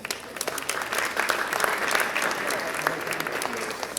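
Applause from an audience at a Lahore event, a dense spread of many hands clapping at moderate loudness, steady from start to finish.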